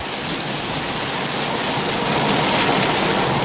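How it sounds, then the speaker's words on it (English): Steady, dense hiss of heavy rain pouring continuously, loud and enveloping, with no voices. "It started to rain heavily on the mountains north of Pisa."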